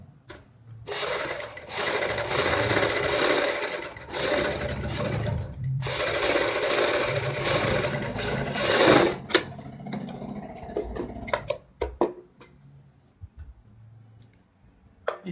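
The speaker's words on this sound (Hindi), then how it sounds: "दूसरी साइड भी ऐसे ही सिलाई लगाएंगे।" A sewing machine stitches piping onto a blouse back neck, running in long steady whirring bursts with brief pauses between them, close and clear, before stopping for a few light handling clicks and taps.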